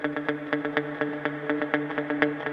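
Dry galloping guitar rhythm with no processing, crisp repeated muted plucks in a tight, driving triplet pattern, each note clearly separated and steady in level throughout.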